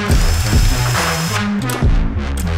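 Cylinder head bolts being tightened on a Yamaha racing engine during a rebuild, giving a loud, continuous mechanical whir with shifting rattly tones close by.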